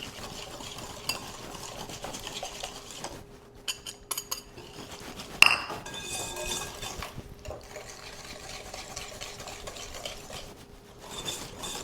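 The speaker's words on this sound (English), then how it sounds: "I'm going to whisk the egg and the egg yolk in." Egg and egg yolk whisked in a bowl for cookie dough, a soft continuous rhythmic stirring with light clinks of utensil against the bowl, one louder knock midway.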